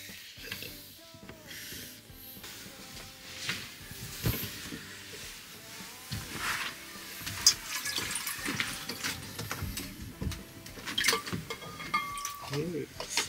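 Water splashes and pours into a container for a newly arrived pet betta fish, an uneven run of trickling and sloshing, with voices chatting over it.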